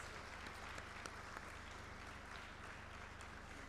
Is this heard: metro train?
no